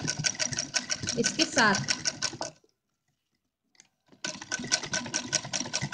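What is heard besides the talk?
sewing machine stitching a doll's dress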